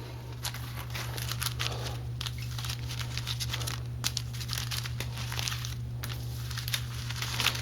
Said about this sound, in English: We'll give them a good shuffle.